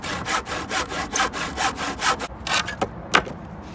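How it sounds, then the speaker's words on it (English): A hand saw cuts through pallet wood in steady, rhythmic back-and-forth rasping strokes, close and clear, slowing to a few final strokes as the cut finishes, with no talking. "when you actually start sawing, you know you're not off at any weird angles"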